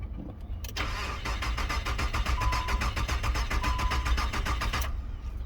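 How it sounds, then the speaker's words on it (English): A 2000 Nissan car engine cranks without catching, a rapid even starter whir with rhythmic compression pulses lasting about four seconds, close and clear with no talking. "Crank no start, but previously it was cranking up and starting"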